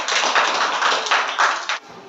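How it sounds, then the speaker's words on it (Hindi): Schoolchildren in a classroom activity clap loudly together, a dense burst of many hands lasting under two seconds with a few rhythmic surges before it stops abruptly. "शुरू करने से पहले तेज तालियां बजाओ एक बार।"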